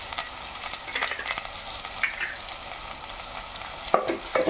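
Shallots and fenugreek fry in hot oil with garlic and curry leaves for a tamarind gravy, giving a soft continuous sizzle with occasional stirring scrapes and clicks, close and fairly quiet.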